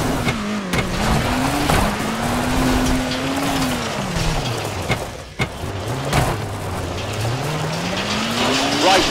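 A rally car in the WRC 4 video game on an Australian stage, engine revving steadily and tires skidding through a handbrake turn, close and loud with the engine pitch rising and falling.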